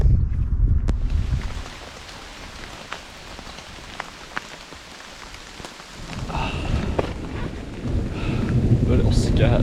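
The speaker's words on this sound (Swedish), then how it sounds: "Nu börjar det åska här." Thunder rumbling low during steady rain on a bicycle tour in northern Norway, with heavy rumbles at the start and swelling again near the end, loud and close over the patter of raindrops.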